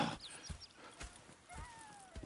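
Horses in the Red Dead video game: soft hoof clip-clops and shuffling with a thin whinny, faint and somewhat distant, over quiet ambient background.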